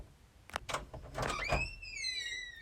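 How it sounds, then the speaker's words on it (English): A door opens with a few soft knocks and thuds followed by a sliding rumble and a rising high-pitched whine, fairly quiet and heard alone. "The door opened."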